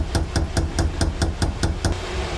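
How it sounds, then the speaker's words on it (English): A wooden mallet, shaped from a pallet board, strikes a chisel set into wood in nine steady, evenly spaced blows, close and crisp, one after another for about two seconds. "Hit the chisel right where those 2 meet."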